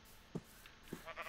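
Two short, faint sheep bleats from Minecraft sound a little over half a second apart, quiet and alone against a low background.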